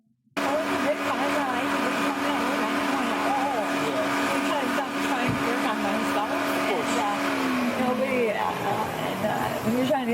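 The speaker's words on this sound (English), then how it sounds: "The car starts freaking making noises at the best part." A car gives off a continuous droning, whirring mechanical noise with a shifting pitch that sinks near the end, loud and close, with a voice speaking over it.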